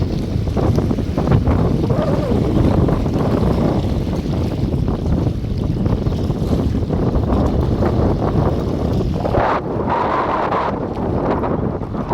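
Strong wind roars steadily across the open water of Thoppaiyaru dam near Thoppur, buffeting the microphone with constant rushing noise.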